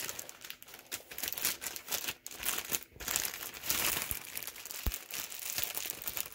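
Crinkly plastic packaging around a thrifted cross stitch kit being handled and pulled apart, with steady close rustling and crackling throughout and a few sharper crunches, no talking.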